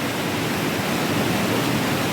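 A waterfall in the Alberni Valley on Vancouver Island pours in a loud, dense, continuous roar of rushing water, steady from start to finish with nothing else heard.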